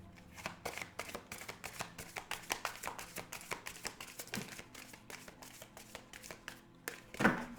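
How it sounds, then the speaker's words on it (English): Close, crisp shuffling of a tarot deck, a steady series of soft flicks and riffles, ending with a brief louder knock. "It's awkward to shuffle these cards, so I do the best I can."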